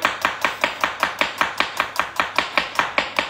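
A knife finely chopping an onion on a board, about fifteen crisp, evenly spaced strokes in a quick steady rhythm, close and clear with no talking.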